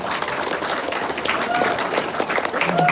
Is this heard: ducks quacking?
no